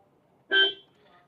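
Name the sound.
Maruti Victoris car horn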